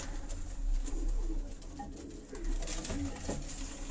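Pigeons coo on a Karachi rooftop with a low, continuous murmur of calls. The cooing is fairly close and steady over a constant background hum.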